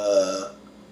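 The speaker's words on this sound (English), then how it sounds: "Oh my god, I gotta burp." A single loud, drawn-out burp right up close after eating cooked cow kidneys, with a rough voiced start that trails off into quiet after about half a second.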